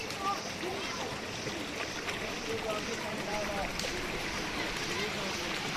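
A deep village river flows with a steady, soft rushing and gentle splashing, a continuous wash of water at moderate distance with faint voices talking over it.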